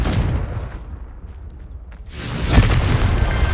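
A Confringo fire-blast spell from the Hogwarts Legacy video game bursts as a loud, rumbling explosion. A second heavy boom lands a couple of seconds later.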